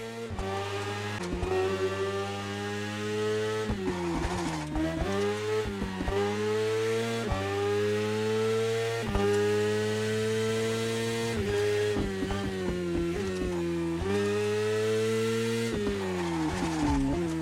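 A Ferrari F50 racing in The Crew Motorfest, its engine revving loudly and steadily, with repeated rising pitch sweeps and brief dips at each gear change.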